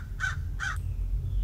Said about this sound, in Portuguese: o corvo não dá pra pegar, infelizmente